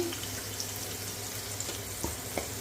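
Garlic cloves fry in hot oil as a tempering for mint chutney, giving a soft steady sizzle with a faint low hum beneath and a couple of small clicks near the end.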